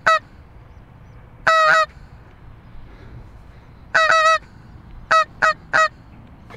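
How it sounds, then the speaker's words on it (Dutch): Geese honking in flight, loud clustered calls in short bursts separated by quiet pauses, close and clear with no speech. "Allemaal ganzen."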